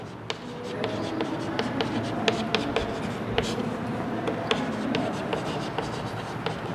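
A pen writes an equation by hand during a Class 11 maths lecture on differentiation, giving steady scratching with light taps and strokes over a constant background hiss, with no talking.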